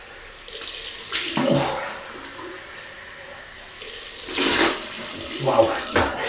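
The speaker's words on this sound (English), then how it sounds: "Cold water rinse." Cold tap water runs in bursts into a sink while a safety razor is rinsed, two loud gushes separated by quieter gaps, close to the mic.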